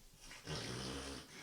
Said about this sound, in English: That's my dog. I'm going to leave that in.